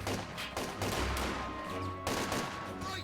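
Machine gun fire in Company of Heroes 2 on the Essen Steelworks map, with repeated bursts of rapid shots and overlapping distant gunfire rattling through a battle soundscape at moderate-low level.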